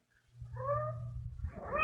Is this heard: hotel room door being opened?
no